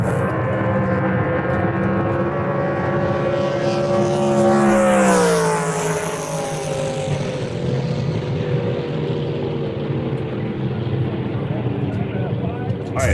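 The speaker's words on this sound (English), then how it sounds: "Not only did the boat make it from the starting line to the finish line, but it ran really good." A drag racing boat powered by a 632 cubic inch big block Chevy engine roars past on its run, the engine note climbing loudly then sweeping down and fading into the distance.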